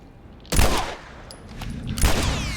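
Two sharp gunshots roughly one and a half seconds apart ring out in The Last of Us video game, each a loud broadband crack with a short decaying tail, over quiet ambient game sound.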